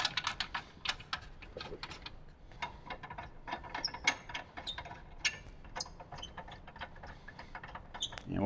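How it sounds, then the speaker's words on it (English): Lug nuts are threaded by hand onto a Jeep Wrangler JK wheel, giving a quick run of small, close metallic clicks and ticks in an uneven rhythm. The clicking holds fairly steady, and nobody speaks. "We'll grab our lug nuts and start them by hand."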